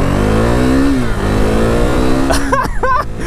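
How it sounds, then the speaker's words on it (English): A 2017 KTM RC390 motorcycle accelerates hard from a red light, its engine loud and rising through revs, then shifting up twice in quick succession near the end with pitch dropping and climbing again. "let's see what kind of grunt the bike has"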